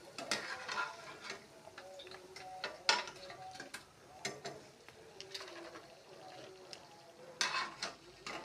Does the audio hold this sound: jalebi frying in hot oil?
yes